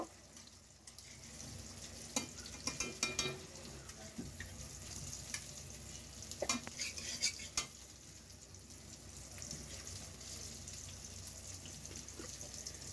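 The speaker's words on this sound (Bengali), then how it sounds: "এখানে আমি গাজর পেঁয়াজ একসাথে ভেজে ভাতটা দিয়ে দিয়েছি।" Cooked rice stir-frying with carrot and onion in a pan, a steady sizzle broken by scraping spatula strokes and clattering bursts, close and moderately loud with no talk.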